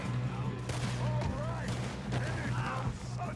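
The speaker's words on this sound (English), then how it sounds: "Good shooting, kid." Gunfire rings out in a Red Dead Redemption 2 shootout, with repeated sharp shots over a constant game ambience while a voice talks.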